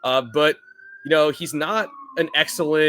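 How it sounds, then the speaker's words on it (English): A distant emergency siren in New York City wails as a thin sustained tone that slowly falls in pitch, faint beneath someone talking continuously in the foreground. "I apologize for the siren."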